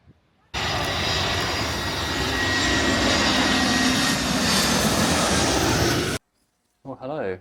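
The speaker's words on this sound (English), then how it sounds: "here was our first aircraft arriving, the A330, all the way from Paris" A loud, sustained roar comes from an Airbus A330 arriving from Paris as it passes low over a St. Maarten plane-spotting beach. The sound cuts in abruptly, holds steady for several seconds, then stops, and brief talk follows.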